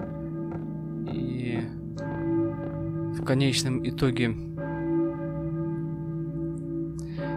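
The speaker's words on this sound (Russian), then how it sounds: "думаю, это церковный колокол, но кто в него звонит?" A church bell tolls in the PS1 video game Silent Hill (1999), school area, ringing as a sustained, resonant metallic hum that persists throughout while someone speaks over it briefly.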